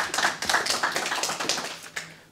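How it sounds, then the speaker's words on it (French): A small group of seniors applauds a quiz contestant at a residence game show, a light, thin patter of a few hands clapping that quickly tapers off. "On applaudit Christiane."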